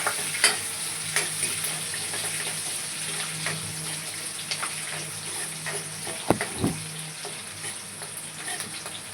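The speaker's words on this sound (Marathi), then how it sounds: "छान मिरची भाजून घेऊया." Green chillies roasting and sizzling in a hot pan with cumin, a steady close frying hiss broken by occasional pops and stirring clicks, with no talking.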